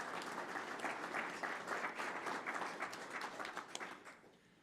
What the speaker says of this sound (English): So Leanne Franklin, you deserve our applause.